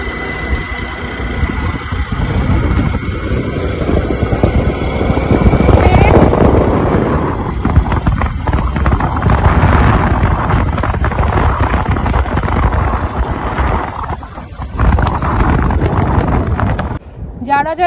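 A scooter rides along Udaypur sea beach near Digha, its steady mid-pitched engine hum mixed with gusty wind buffeting the microphone and a voice talking over it.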